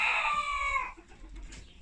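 A rooster crows loudly and close, a harmonic call lasting under a second, followed by quieter farmyard rustling.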